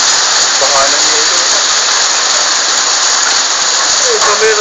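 A heavy hailstorm in Yadamah drums down as a constant loud wash of falling ice, with a few faint voices speaking under the roar.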